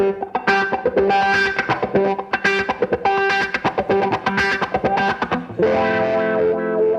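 Electric guitar with a wah pedal playing a busy, heavily effected riff, the tone sweeping and distorted, loud and continuous throughout.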